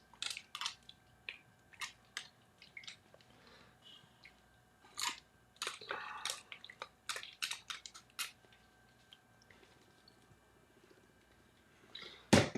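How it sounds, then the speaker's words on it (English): Distilled water is squirted onto the edge of a paint mat in a series of short, sharp, fairly quiet hissing bursts, some single and some in quick clusters, with pauses between and a louder final squirt. "we will squirt some distilled water in there and get this edge of the mat wet"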